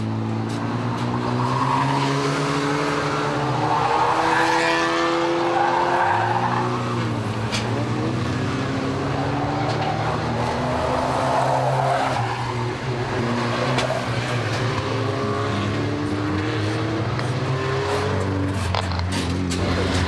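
Stock cars race at the Warton Stock Car Club, engines roaring continuously with rising and falling pitch as cars pass, plus repeated tire squeals and skidding over a loud, constant mix.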